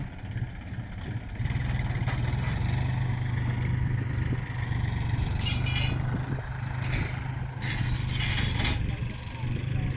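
A tractor works nearby leveling rough, pitted ground in the rainy season, its engine running at a steady low drone throughout while people talk over it.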